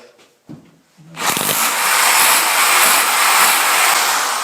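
Power drill boring into a wall at home, a brief quiet knock before the motor kicks in, then a loud continuous high grinding whine held steadily to the end.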